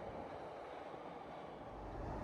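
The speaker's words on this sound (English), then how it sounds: "Today's train had the new 7000 series railcars" A CTA Blue Line subway train with new 7000 series railcars rumbles along in a steady, quiet low roar heard from on board, building slightly toward the end, with no speech.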